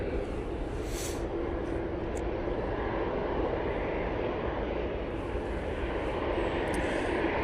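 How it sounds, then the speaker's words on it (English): A Lufthansa CityLine Airbus A320neo takes off from Manchester Airport bound for Munich, its engines a faint, distant, constant roar with no voices over it. "Lufthansa City for proper Lufthansa now flying off to Munich using their"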